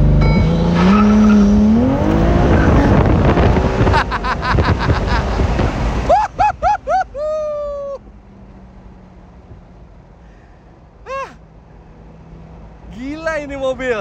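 A 2023 Ferrari 296 GTS, a rear-wheel-drive car, launches from first gear on launch control with ESC off. The engine roars loudly in the first half, then quick rising gear-shift sweeps follow, and the cabin goes quieter with brief later engine swells.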